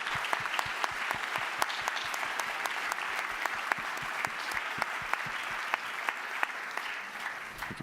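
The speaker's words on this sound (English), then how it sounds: "And now a big round of applause for all of you." An audience claps steadily for several seconds, a dense patter of applause with a few sharper claps standing out, fading slightly at the end.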